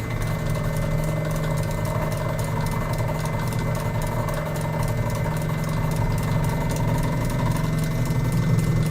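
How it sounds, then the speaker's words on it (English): A motor-driven coil winding machine slowly winds wire onto a 1930s STC electrodynamic speaker field coil, making a steady, even mechanical hum with a faint rhythmic ticking that runs close and unbroken throughout. "I'll push start, and hopefully it'll work and not break the wire."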